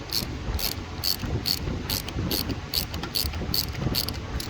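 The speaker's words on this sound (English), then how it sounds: "First thing we're going to do is loosen up this negative terminal here." A ratchet with a 10mm socket loosens the negative battery terminal on a 2017 Nissan Altima, giving a steady run of close, crisp clicking strokes, about two to three per second, with no talk.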